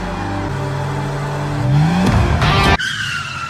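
A car skids while being driven along a footpath. The loud engine rises into a sharp tire squeal and screech, then cuts off abruptly.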